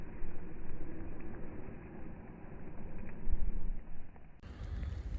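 Strong wind gusting in a snowstorm in Lewiston, New York, a steady low roaring rush with swelling gusts that buffet the microphone, loud and close throughout with no talk.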